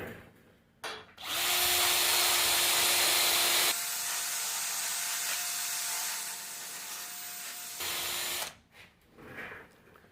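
A power drill cleaning an aluminum part before TIG welding whirs steadily for several seconds with a grinding, rubbing edge, then slows and cuts off, followed by brief handling noises.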